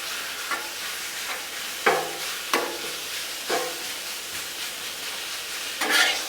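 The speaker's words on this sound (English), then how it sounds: "Love that sizzle sound." Taco meat sizzles on a hot Blackstone griddle in a continuous hiss, punctuated by several sharp scraping or stirring clacks at irregular intervals.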